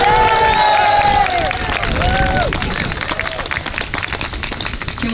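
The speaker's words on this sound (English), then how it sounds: "Can we have another round of applause for John Vale, please?" A crowd at an outdoor holiday parade and tree lighting breaks into applause and cheers, with dense clapping mixed with voices and a few whistles that begin strong and gradually taper off.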